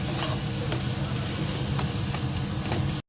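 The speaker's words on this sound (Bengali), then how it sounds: "জিরের গুঁড়ো দিলাম, ধনের গুঁড়ো, হলুদ গুঁড়ো দিয়ে আবার একটু কষিয়ে নিই" Cumin, coriander and turmeric powders sizzle and fry in a pan for a home-cooked Bengali meal, with a steady close hiss broken by occasional stirring scrapes and no voices.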